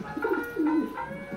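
Madrasi and Giribaj pigeons, kept as a breeding pair, give a few soft, throaty coos in quick succession, fairly quiet and close with no one talking.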